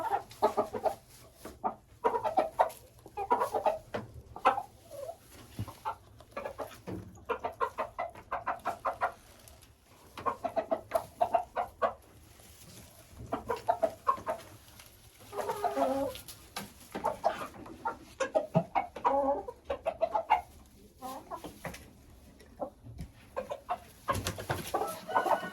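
A rooster and broiler chickens cluck and murmur while pecking at grass, with bursts of close, irregular clucking and soft calls separated by brief quiet gaps.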